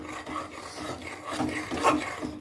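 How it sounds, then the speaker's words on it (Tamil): A spatula scrapes and stirs kothu chapati with egg in a pan, giving soft, continuous rasping and rubbing with a few louder scrapes, nearby and with no talking. "இப்போ இதை நம்ம நல்லா கிண்டி விட்டுக்கலாம்."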